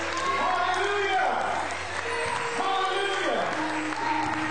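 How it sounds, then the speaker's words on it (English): A church congregation claps and cheers in praise, with voices calling out over the dense, steady clapping and an organ or keyboard tone sustained underneath throughout. "I'll give the Lord a hand clap for you."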